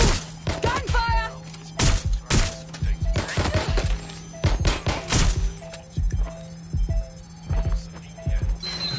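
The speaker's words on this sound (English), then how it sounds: "Gunfire!" Sharp bursts of gunfire in Watch Dogs: Legion crack in quick irregular volleys, with electronic beeps and tones in the background, like a game soundtrack.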